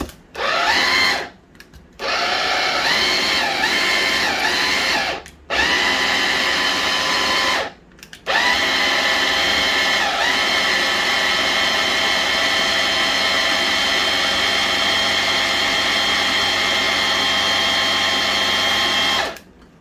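An electric blender whirs loudly, blitzing pesto with pine kernels and cheese, in several short pulses and then one long continuous run, close and with no talking.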